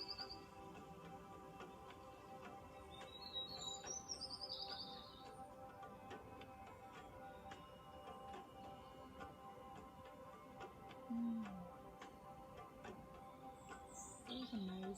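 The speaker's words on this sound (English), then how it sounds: "Listening to the birds" Faint, distant bird chirps in short bursts, a few scattered calls over a very quiet background with a soft, regular ticking.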